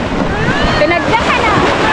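Sea waves wash steadily onto a beach where children swim, a continuous close roar of surf mixed with gusty wind buffeting the microphone.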